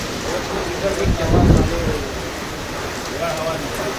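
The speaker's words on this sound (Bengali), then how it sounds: "খুব বৃষ্টি ঝড়" Heavy rain in a storm, a steady dense patter close by with a brief louder rumbling swell in the middle, a voice talking over it.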